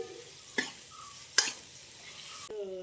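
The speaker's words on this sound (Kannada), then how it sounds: "ಕರಿಬೇವು ಸೊಪ್ಪನ್ನು ಹಾಕ್ತಾ ಇದ್ದೀನಿ" Curry leaves drop into a pan of frying onions and give a quiet, steady sizzle under a few sharp spoon clanks against the pan, with one louder metallic knock near the end.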